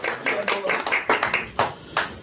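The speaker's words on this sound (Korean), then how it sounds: "박수 한번 쳐주세요" A church congregation clapping during a Tuesday evening revival service, a string of loud, fairly even claps close by, with speech running alongside the clapping.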